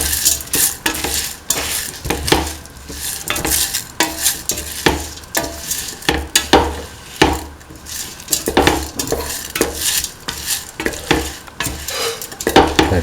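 Mung beans and salt are stirred into a stew mixture with ivy gourd and coconut milk. Loud, close, repeated scraping strokes sound over a constant sizzle, with no voices.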